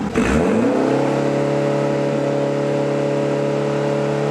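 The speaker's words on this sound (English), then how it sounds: "Go do a burnout." A truck revs hard at close range, a sharp burst at the start settling into a loud, steady engine roar at high revs for the rest of the moment, with no talk over it.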